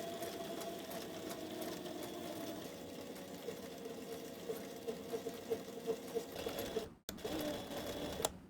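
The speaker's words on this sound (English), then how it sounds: "I'm sewing with Tex 90 thread and a size 18 needle, making sure to do some back stitching at the beginning and the end of each seam." A sewing machine stitches leather with Tex 90 thread and a size 18 needle, a steady fast mechanical whir and clatter running throughout, with a brief stop near the end before it resumes.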